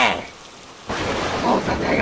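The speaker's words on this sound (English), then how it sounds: "It's raining!" Rain and thunder, a steady hiss of heavy rainfall that swells abruptly midway into a louder, fuller roar, close and continuous throughout.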